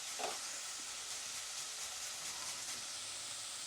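Capsicum and carrot frying in a pan give off a steady broadband sizzle with soft stirring scrapes, close and constant for the whole stretch, with no talk.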